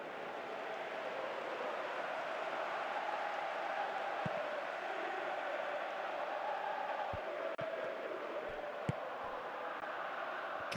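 Stadium crowd noise from a PES 2017 football video game match, a steady broad roar of cheering fans at moderate level throughout, with a few faint sharp clicks.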